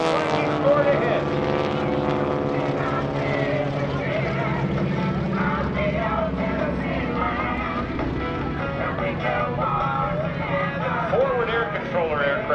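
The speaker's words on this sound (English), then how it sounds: "Simulated gun firing by the trailing aircraft trying to get a hit on the leader." Propeller aircraft engines of the GEICO Skytypers drone steadily during a simulated gun attack pass at the 2016 NAS Oceana Airshow, heard under a loud public-address announcer talking throughout.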